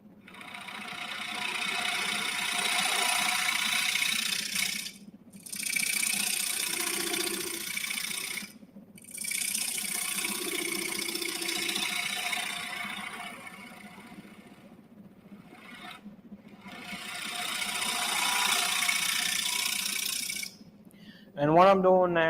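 A wood lathe spinning as a ladle is turned, a steady hum broken by bursts of scraping and rasping as the tool cuts, with pauses between passes and a sharp clatter at the end.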